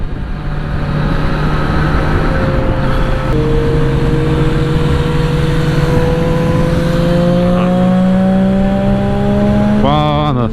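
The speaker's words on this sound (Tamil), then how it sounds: "அந்த வண்டி சவுண்டே அழகுதான்" A Kawasaki Z900 motorcycle ridden on a coastal highway: a loud, continuous engine drone with wind rush, its pitch climbing steadily through the gears and surging sharply at the end.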